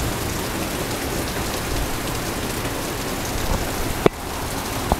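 Heavy rain pours steadily and loudly on surfaces outdoors, a dense continuous wash with a sharp knock near the end.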